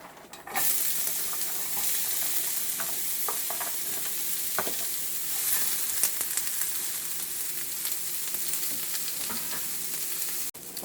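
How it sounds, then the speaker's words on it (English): Onions fry over medium-high heat in a pan greased with oil or butter, giving a loud, steady sizzle with scattered crackles and spits that runs continuously until an abrupt stop, with no speech. "I'm going to fry my onions on medium-high heat until they're soft"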